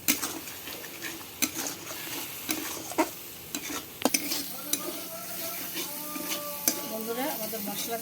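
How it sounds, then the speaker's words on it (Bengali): Masala for an eggplant curry frying in a pan: a continuous sizzle under sharp, repeated clinks and scrapes of a spoon stirring against the metal, with a person talking briefly partway through. "ভালো করে মশলাটা ফ্রাই করে নেব।"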